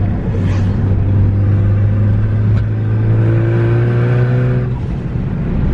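Ford Focus ST fitted with a hybrid turbo driving along, its engine droning steadily with a rising intake and turbo note throughout, loud and close.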